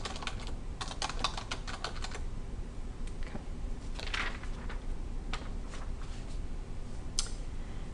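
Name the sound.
typing on a computer keyboard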